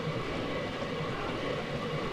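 A train in Deadly Premonition passes as a steady, loud broadband rumble that does not change throughout.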